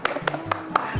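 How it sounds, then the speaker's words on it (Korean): Five spaced, sharp claps from a few people greeting the first customer at a small cafe, close and distinct, with a voice talking between them. "박수 치고."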